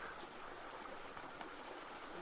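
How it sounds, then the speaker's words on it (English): North Fork of Squaw Valley Creek on the Pacific Crest Trail flows in a steady, broad rushing wash of water, close and continuous with no pauses or voices. "hanging out at the creek here"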